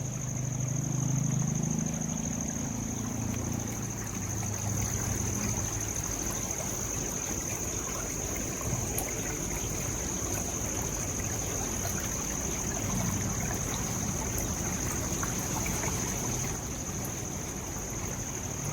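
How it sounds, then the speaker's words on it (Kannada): Rainwater rushes steadily through a canal as a continuous, moderately loud flow of water noise, with no speech. "ನೋಡಿ ಇದು ಮಳೆ ನೀರು"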